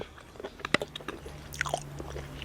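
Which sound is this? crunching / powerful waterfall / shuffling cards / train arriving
crunching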